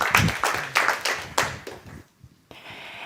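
Audience applause at a deep tech startup night, a burst of clapping from a crowd that fades out midway and then resumes more faintly.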